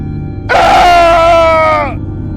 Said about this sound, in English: He screamed and clawed at his body,